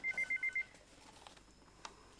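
A household telephone rings in five quick electronic pulses, fairly faint, then stops and leaves a quiet room.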